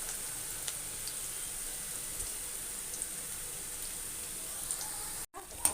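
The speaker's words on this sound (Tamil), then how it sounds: "கொஞ்சமாக எடுத்து இப்படி எண்ணெயில் இப்படி உடச்சி விட்டு போடுங்க" Cabbage and carrot pakoda batter dropped into hot oil, a steady, faint sizzling hiss that runs on without a break and cuts out briefly near the end.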